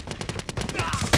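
Rapid automatic gunfire from the Call of Duty Mobile video game, a loud, close, fast run of evenly spaced shots lasting about a second, with no talk.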